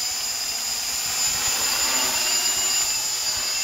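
A quadcopter drone on its maiden flight hovers nearby, giving a steady, loud, high-pitched buzzing whine that holds level throughout without a break.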